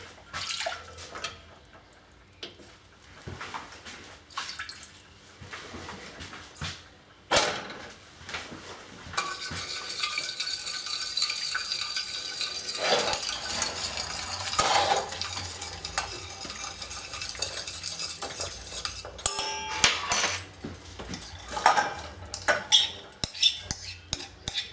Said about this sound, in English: now we place all the ingredients apart from the spring onion into the pot and bring it to the boil